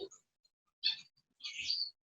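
Finches chirp in short, high bursts during an indoor ikebana flower-arranging demonstration, two or three brief quiet calls separated by silence.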